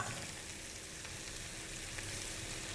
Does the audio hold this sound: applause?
no